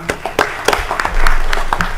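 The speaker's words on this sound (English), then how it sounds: "So they deserve a round of applause for that." A city council meeting audience begins clapping, a few sharp separate claps at first that build into fuller, louder applause, heard close by.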